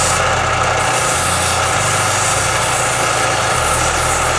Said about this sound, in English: I sanded the ends into points on my belt sander